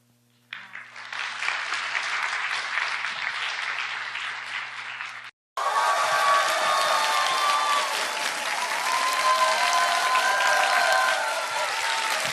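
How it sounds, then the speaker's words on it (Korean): Lecture-hall audience clapping loudly and steadily, one burst that cuts briefly before a second sustained round of applause, with no talking. "박수 한번 하시죠."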